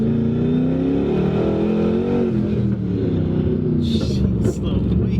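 A twin-turbo 2011 Ford Mustang GT engine revs and roars with exhaust cutouts open, a rough note, pitch rising and falling across several seconds, close to the listener.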